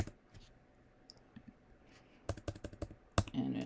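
Keys click on a computer keyboard, a few scattered soft taps followed by a quicker run of sharp, close keystrokes, with no talk.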